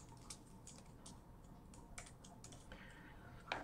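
Quiet keystrokes come in short irregular bursts on a computer keyboard, faint and close, with one slightly louder tap at the end.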